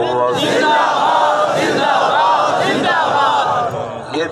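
A large crowd at a religious gathering chants slogans in loud, rhythmic unison, several surging shouted calls rising and falling close by, fading slightly at the end.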